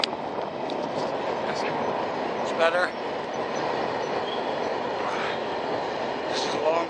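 A long train rolls past continuously, with a steady rumble and faint wheel squeals. Someone speaks briefly over the noise.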